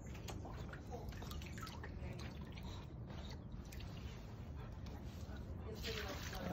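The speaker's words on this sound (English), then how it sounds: "watering the plants." Water drips and trickles steadily while roses are watered outdoors, a soft continuous patter close by with faint voices in the background.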